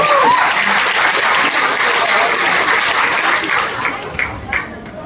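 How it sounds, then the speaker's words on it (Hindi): Loud, dense applause fills a speech event hall in Ranchi, a continuous roar of many clapping hands that stays strong throughout before thinning slightly at the end, with some crowd voices mixed in. "एक बार जोरदार तालियां होनी चाहिए।"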